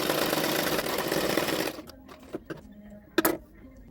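A sewing machine runs in a steady continuous whir while stitching a double katori blouse, then stops abruptly, leaving a few short clicks and handling knocks.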